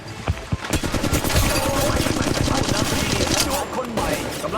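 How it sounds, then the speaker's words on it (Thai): Rapid automatic gunfire during a firefight in Apex Legends Mobile, with a loud, continuous stream of close shots rattling almost without pause. "กำลังยิงต่อสู้"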